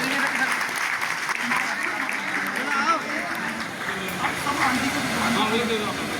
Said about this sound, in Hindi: एक बार जरा भी माता को जरा जोरदार तालियां देकर सम्मानित करें।